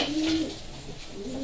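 A racing pigeon coos softly nearby, one low rolling coo that dips and returns in a brief phrase, with no talking over it.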